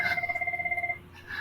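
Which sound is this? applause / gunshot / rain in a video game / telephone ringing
telephone ringing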